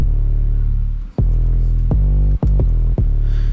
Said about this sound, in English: we've got a simple 808 here that just sounds like this